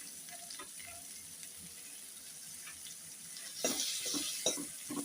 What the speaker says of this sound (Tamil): க்ளீன் பண்ணி வச்சுருக்கிற பாவக்காயை வந்து இதோட சேர்த்து நல்லா வதக்கிடலாம்